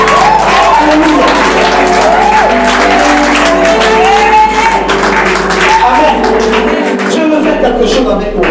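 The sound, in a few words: congregation cheering and applauding the Lord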